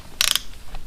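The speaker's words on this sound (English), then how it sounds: "I'm going to torque this bolt to the same torque specs" A torque wrench ratchets as it tightens a bolt to 8 foot-pounds while the shifter and oil pump drive of a 1984 Shadow 500 motorcycle engine are assembled. It gives one short, close burst of rapid metallic clicks, then the room goes quiet.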